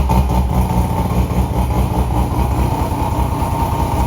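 Mazda RX8 rotary engine idling with methanol injection fitted, a loud, steady, rumbling idle with a fast low pulse, running evenly throughout.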